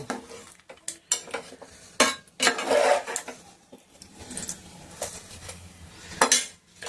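Biryani ingredients being mixed by hand in a metal plate, irregular close clinks and scrapes of metal coming in bursts with short quiet gaps between them.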